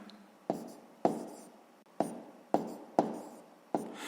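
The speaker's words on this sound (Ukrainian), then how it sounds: "Записуємо тут загальну відповідь." A pen or pencil writing a math answer by hand on paper, with about six short, close strokes at uneven intervals, each starting with a crisp tap and trailing off in a soft scratch, in a quiet room.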